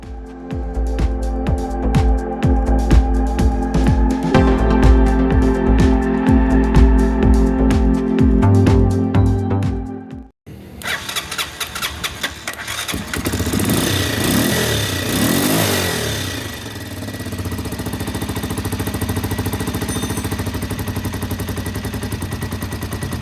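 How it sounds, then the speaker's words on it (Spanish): A motorcycle engine with low compression and a worn cylinder sputters and fires in loud rapid pops, cuts out briefly, then starts and runs with a steady revving roar, close by. "Ahora vamos a ver si la moto enciende."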